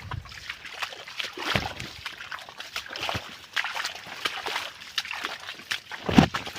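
Irrigation water flows through a castor field channel with a continuous close gurgling trickle and occasional small splashes and sloshes, with no talk.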